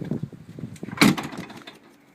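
A Jeep tailgate fitted with a Bestop HighRock 4x4 rear bumper and tire carrier swings shut with one loud, close thump, preceded by softer rattles and followed by a brief settling rattle as the spare tire bounces.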